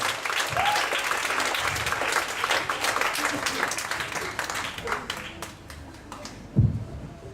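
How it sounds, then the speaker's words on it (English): Comedy-show crowd in Ubud, Bali applauds a game champion with full, steady clapping that gradually thins, with scattered voices and a single dull thump near the end. "Round of applause."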